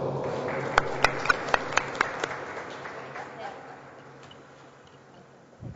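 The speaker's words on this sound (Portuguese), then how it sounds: "encerramos com uma salva de palmas nos pavilhões" A council chamber audience applauds to close a municipal council session, a burst of sharp claps over steady background hum that thins and fades out.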